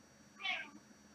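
A single short cat meow, moderately loud and clear, rising out of a quiet room background.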